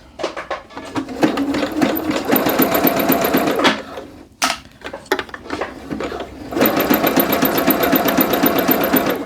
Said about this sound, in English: We're going to go ahead and stitch the crotch seam as instructed.